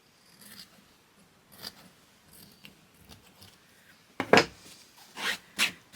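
Scissors snipping quilt fabric pieces as sewn edges are trimmed, faint soft cuts at first, then several louder, sharper close snips near the end.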